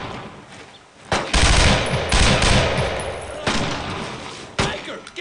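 Bursts of automatic gunfire from a World War II squad firefight in Brothers in Arms: Road to Hill 30, loud and close, several sustained volleys that overlap and follow one another with short gaps.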